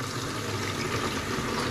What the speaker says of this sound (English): Now, what I'm going to do is put some cold water into the basin.